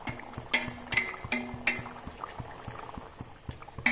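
Water with eggs in it bubbling at a boil in a pot, a steady low rumble of bubbles with several sharper pops and clinks of the eggs knocking against the pot.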